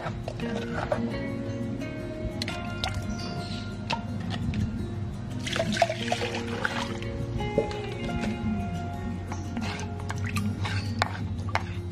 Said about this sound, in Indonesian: Kita isi air lebih banyak, lebih bagus, untuk mempermudah pemisahan biji cabai dari kulit cabai.